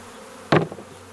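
Honeybees tipped from a trap into a hive body: a brief loud burst of buzzing and knocking, with a smaller bump after, then low background hum.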